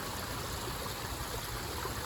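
Steady creek water flowing over rocks, a continuous rushing stream with broadband wash and gurgle, close and even throughout with no voices.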